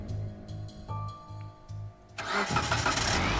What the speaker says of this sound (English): Door slamming, engine roaring.